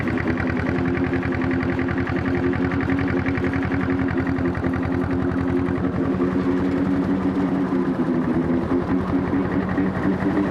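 A long-tail boat powered by a grass-cutter engine runs at a steady unrevved putter, loud and close, with an even rapid firing rhythm throughout.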